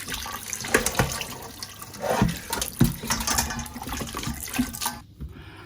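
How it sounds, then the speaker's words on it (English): Running tap water splashes loudly and steadily into a sink as chicken meat is rinsed by hand, with irregular splashes and surges, then the flow stops abruptly near the end; no talk. "So now we are washing the meat again, right? We'll do another rinse, yep. You want the water to be clear."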